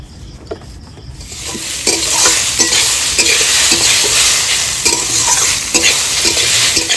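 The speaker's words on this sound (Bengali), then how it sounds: "ঘি দিয়ে একটু ভেজে নেবো লাউটা" Pieces of bottle gourd frying in ghee in a pan: loud, close sizzling that surges after about a second, with repeated stirring scrapes at an uneven rhythm and no talk.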